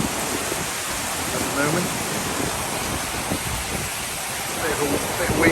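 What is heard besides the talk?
wind blowing and heavy rain pouring down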